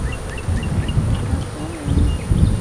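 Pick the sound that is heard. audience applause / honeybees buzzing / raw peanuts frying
honeybees buzzing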